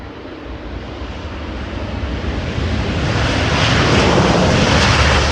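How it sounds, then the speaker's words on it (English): Jet aircraft noise at Heathrow airport, a broad roar that builds steadily louder and brighter over several seconds, with wind buffeting the microphone. "Finnair A350 in the background as well."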